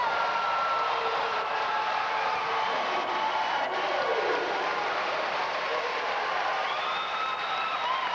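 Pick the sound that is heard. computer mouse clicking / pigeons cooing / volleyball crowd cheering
volleyball crowd cheering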